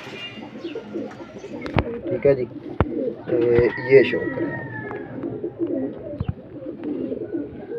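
Teddy flying pigeons coo repeatedly in soft, rhythmic bursts close by, with a few sharp clicks and someone talking over them.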